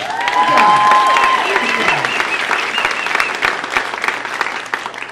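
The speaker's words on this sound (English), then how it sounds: "How about a round of applause for the military people?" A comedy club audience applauds military service members, a dense burst of clapping with a few cheers that peaks early and tapers slightly over several seconds.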